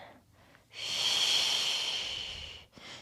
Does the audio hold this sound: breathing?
yes